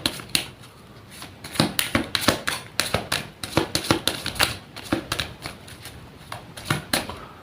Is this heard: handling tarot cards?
yes